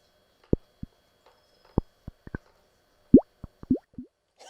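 Droplet samples played on a Roland SP-404 sampler through its wah effect: a sparse series of short, close plops and bloops, some with upward-bending watery pitch, separated by silence.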